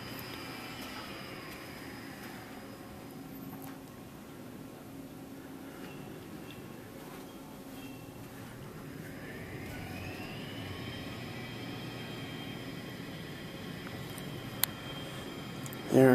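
An Otis traction elevator in a hidden staff shaft at Saint Vincent Hospital in Worcester, Massachusetts hums steadily, with a motor whine that sweeps up and down in pitch and a sharp clunk near the end.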